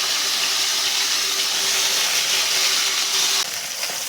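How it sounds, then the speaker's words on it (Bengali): Fish heads sizzle in hot mustard oil in a wok, a loud steady hiss of frying that runs throughout and drops slightly near the end. "কড়াতে একটু সর্ষের তেল দিয়ে দিয়েছি, এটাকে এবার গরম হতে দিয়েছি। তো মাছের মাথাগুলো দিয়ে ভেজে নেবো"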